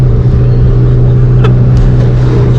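A Mitsubishi Shogun engine idles roughly up close on a cold start, a steady low throbbing drone with a faint sharp pop partway through.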